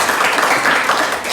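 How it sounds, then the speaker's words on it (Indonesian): Applause for a student in a classroom, a dense steady patter of many hands clapping together, close and fairly loud throughout. "Berikan aplaus buat Jose"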